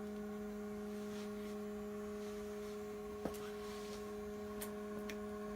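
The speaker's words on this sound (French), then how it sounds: "il y a un petit ventilateur à l'intérieur." A small fan running inside a quail incubator gives a faint, steady electrical hum with a constant tonal drone and a single soft click partway through.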